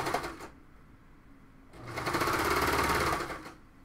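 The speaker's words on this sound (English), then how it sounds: "It's never good on a serger to run over your pins." A serger stitches fabric in two bursts, a brief whir followed by a longer, louder rapid mechanical chatter that runs for nearly two seconds before stopping.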